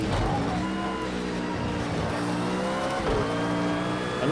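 A GT1 race car in Project Cars 2 accelerates hard out of a corner at Donington Park, its engine note climbing steadily in a loud, continuous roar with rising harmonic tones and a brief shift near the end.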